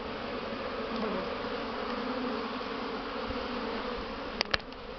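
Honeybees on a strong spring cleansing flight around overwintered hives in an apiary make a dense, continuous buzzing swarm drone, with a couple of brief clicks near the end.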